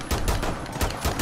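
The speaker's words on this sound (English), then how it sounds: "shooting me with pistols" Pistol gunshots in the video game Rainbow Six Siege: a quick cluster of three or four loud, close shots within about a second over a dense, noisy game background.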